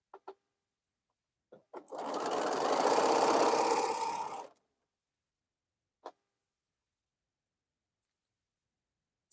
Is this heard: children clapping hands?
no